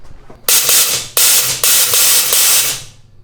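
Nitrous oxide blasting from the throttle body boot of a 5.3 Chevy Silverado in loud, harsh hissing bursts, three close spurts roughly a second apart.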